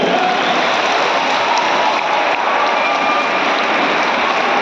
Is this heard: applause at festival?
yes